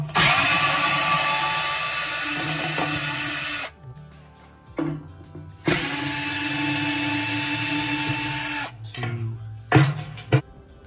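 Power drill backing screws out of the drum of a Frigidaire gas dryer under repair, two long close high whirring runs separated by pauses, then short bursts and clunks near the end.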